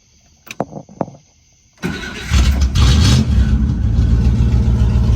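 A 1963 Buick Special engine cranks in a few short bursts, then catches and settles into a loud, steady near idle that runs on without any talk, slightly uneven.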